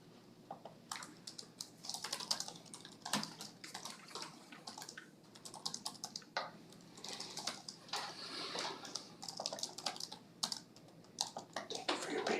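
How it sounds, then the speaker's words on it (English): Rapid, uneven clacking of a computer keyboard during a school board meeting, steady bursts of keystrokes at close range with faint background murmur. "I'm typing as fast as I can."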